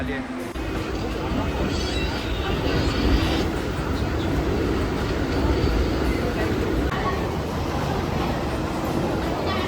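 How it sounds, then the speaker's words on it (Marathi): A local train pulls into Chinchpokli station in Mumbai during rainy festival season, a loud continuous rumble and rush of carriages with crowd chatter and voices mixed throughout. "आली ट्रेन आली वाटतं."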